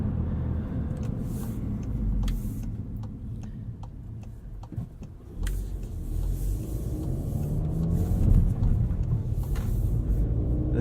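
A 2016 Volkswagen GTI SE with a six-speed manual gearbox drives along, its engine a low rumble that swells toward the end, with faint ticking clicks on top.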